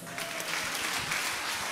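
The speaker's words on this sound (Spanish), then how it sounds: "Un aplauso a Jesús." Church congregation clapping during a worship service, a continuous moderate wash of many hands lasting under two seconds, somewhat distant and soft.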